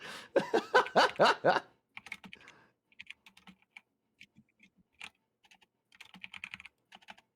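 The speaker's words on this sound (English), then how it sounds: "we can hear you typing now" Clicks of a computer keyboard being typed on during an online tabletop role-playing session, coming in quick scattered bursts after someone speaks at the start, moderately close and fairly faint.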